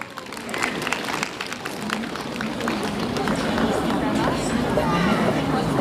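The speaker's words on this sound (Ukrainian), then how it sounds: "Привітаємо оплесками!" Audience applause fills a university anniversary concert hall after two singers perform a song, a dense, steady wash of clapping with crowd noise that swells slightly toward the end.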